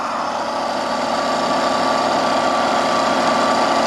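A shunt- or series-wound DC motor runs unloaded on a test bench, giving a steady, even electric hum and whine with no change in pitch across the whole stretch.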